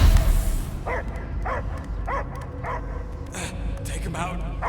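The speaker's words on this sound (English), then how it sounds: "I hear only barking." A dog barks and yips repeatedly inside the Guardians of the Galaxy video game, a string of evenly spaced barks under game music and character dialogue.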